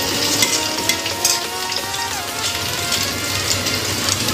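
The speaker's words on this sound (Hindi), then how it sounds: "इसी तरह मैं सारे जो जैसे काट के रखा है सब फ्राई कर लूँगी।" Pieces of dal vada, a lentil cake, deep-fry in hot oil with a loud, dense, continuous sizzle and crackle, heard up close and alone.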